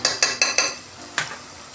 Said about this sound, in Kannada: ಬಾಡಿಸ್ಕೊಳ್ತಾ ಇದ್ದೀನಿ